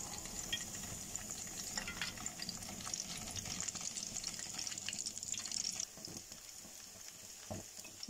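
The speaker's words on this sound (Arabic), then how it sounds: "هنزل دلوقتي بالبتنجان بتاعنا" Eggplant frying in hot oil, a steady crackling sizzle that runs throughout at moderate level, with a few clinks and stirring knocks in the second half and no talking.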